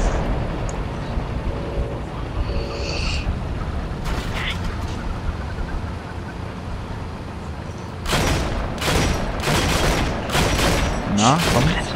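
A flak gun fires in the World War II game Heroes & Generals: rapid, booming bursts that repeat from about two-thirds of the way through, over a constant rumbling battlefield din, with a voice talking at times.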